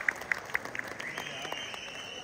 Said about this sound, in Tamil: கைத்தட்டி உற்சாகப்படுத்திய அந்த 4 நண்பர்களுக்கு நன்றி